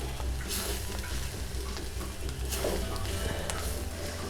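Coconut masala with onion is stirred and roasted in a pan for Malvani spice paste, a continuous dense sizzle with repeated scraping strokes of a spoon turning the mixture from bottom to top.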